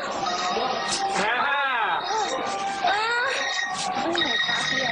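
A mobile phone buried in elephant dung rings with a melodic, wavering ringtone. The looping tones rise and fall for several seconds.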